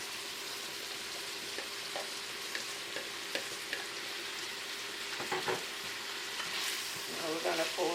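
Jamaican callaloo frying in a pan with codfish, bacon, onion and tomato, a steady soft sizzle under occasional spoon stirs and taps, with no voice.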